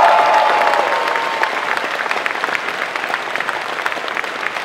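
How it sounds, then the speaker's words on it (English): Fans at a Star Wars panel at Silicon Valley Comic Con 2018 applaud: a broad wash of crowd clapping in a large hall, loudest at the start and tapering slightly but continuing steadily. "Can we please give her a big round of applause?"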